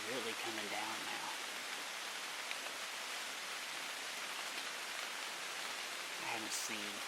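Steady heavy rain pours down outdoors at a deer hunting spot, a dense continuous hiss on the ground and cover, with a few faint speech-like bursts near the start and end.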